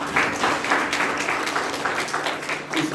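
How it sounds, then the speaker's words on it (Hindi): An audience at a Gita discourse claps for Ramlal ji: steady, dense applause from many hands continues throughout, with a speaker's voice faintly beneath it. "एक बार रामलाल जी के लिए ताली बजाओ।"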